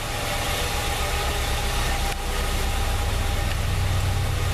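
A Ford Versailles 1.8 8v AP engine runs steadily in a workshop with a loud, even roar and no clear rise or fall in revs.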